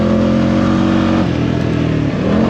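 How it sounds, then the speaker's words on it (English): An off-road vehicle at an OHV park revs its engine steadily and loudly, the pitch climbing slightly before dipping briefly as it shifts, with no talking over it. "It kind of revs up a little more to shift."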